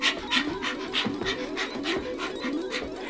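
A dog pants rapidly in a steady rhythm, each breath a short breathy burst repeating about every third of a second, close and fairly soft, with no one talking.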